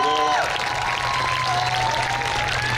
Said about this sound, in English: This woman needs a tremendous amount of applause